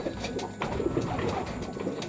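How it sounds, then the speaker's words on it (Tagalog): Soft, low pigeon cooing repeats in a steady rhythm, close by, with faint clicks and rustling around it. "Kay Bus Gilbert na ibon to"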